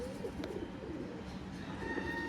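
A pair of pigeons coos softly nearby, a short run of low, rolling calls over a faint, steady background hum, with no one talking.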